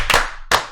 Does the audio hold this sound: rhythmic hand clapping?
yes